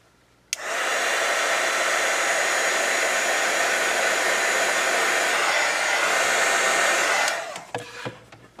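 A hair dryer blasts a steady, loud roar at close range to force-dry a painted art journal page, switching on abruptly and running for about seven seconds before cutting off.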